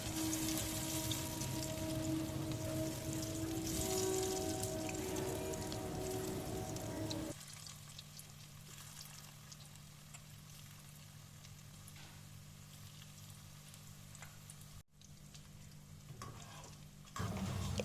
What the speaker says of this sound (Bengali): মিডিয়াম আঁচে আমি ভাজছি